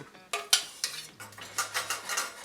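Tea eggs stirred in a pot of dark simmering liquid, a run of close clinking and scraping strokes of a utensil against the pot in an uneven rhythm.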